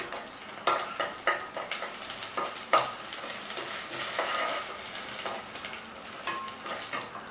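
Chili, garlic and curry leaves sauté in a pan for masala pori, a steady sizzle broken by repeated spatula stirs and scrapes at a regular pace, close and moderately loud, with no voices.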